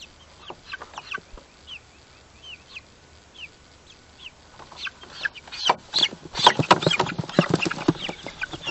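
Chickens and young chicks peep and cluck in an outdoor grass pen. Scattered high chirps come first, then the calls grow denser and louder into a busy, overlapping clucking flock with no voices.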